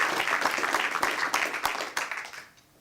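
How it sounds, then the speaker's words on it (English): Dense applause from a crowd at LSU's Louisiana Digital Media Center, many hands clapping steadily before fading out at the end. "Let's give a round of applause to the students, faculty, and staff"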